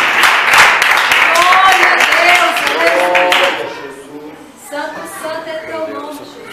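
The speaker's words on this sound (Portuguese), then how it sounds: "Recebe, irmã, com as palmas para Jesus." Church congregation clapping at an evening service in Alto Vera Cruz, Belo Horizonte, a dense burst of hand claps under singing and voices for about three and a half seconds, then fading to quieter talk and sung tones.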